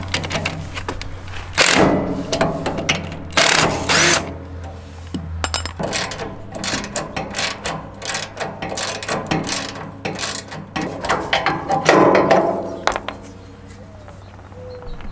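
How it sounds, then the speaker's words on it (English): A ratchet wrench loosens the bolts on the front shock of a Simplicity Prestige/Conquest lawn tractor, giving irregular bursts of clicking and metallic mechanism noise close by, with pauses between strokes. "Now we just need to unbolt that front shock."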